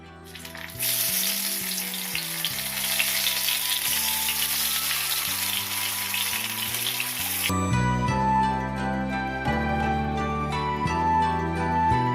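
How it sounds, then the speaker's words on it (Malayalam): Brinjal slices fry in hot oil in a pan, a steady loud sizzle running throughout under background music, easing slightly partway through. "അപ്പോൾ നമ്മൾ വഴുതനങ്ങയൊക്കെ ഫ്രൈ ചെയ്യാനായിട്ട് ഇട്ടിട്ടുണ്ട്"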